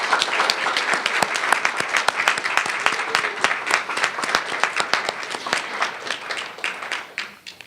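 An audience at a student filmmaking press conference applauds the student mentors: dense, steady clapping from many hands, fairly close, tapering off at the end.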